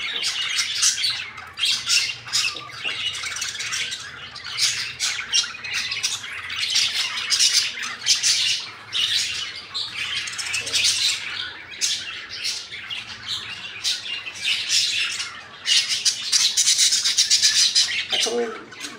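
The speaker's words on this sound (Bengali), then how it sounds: "এখন আর পাখি খাবে না, এখন চিল্লি করবে" A flock of pet budgerigars squawks and chirps without pause in an afternoon aviary, a dense, fairly close chatter of overlapping calls that stays busy from start to finish.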